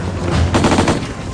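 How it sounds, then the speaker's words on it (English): A short burst of rapid gunfire, several shots in quick succession, loud against steady background noise. "Within seconds, enemy gunfire."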